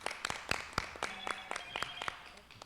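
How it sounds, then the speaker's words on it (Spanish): Sparse, scattered applause welcoming councillor Alba Ordaz at a political movement gathering in Cuauhtémoc, Mexico: a small group clapping in uneven, distinct claps, fairly close, with faint background voices. "Un aplauso,"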